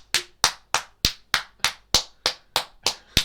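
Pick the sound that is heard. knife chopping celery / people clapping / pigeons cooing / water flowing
people clapping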